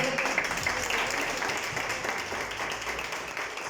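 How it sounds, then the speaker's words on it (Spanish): A church congregation applauds during a Spanish-language service, a moderate, steady rush of clapping hands that fills a few seconds with no clear voices over it. "Dale un aplauso al Señor."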